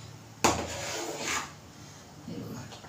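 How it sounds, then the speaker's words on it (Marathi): Spoon clatters against a pan with a sharp knock, then a short scrape while stirring a sabudana and potato mixture with salt and chili flakes, with softer scraping near the end. "आता आपल्याला हे सगळं हलवून घ्यायचं आहे."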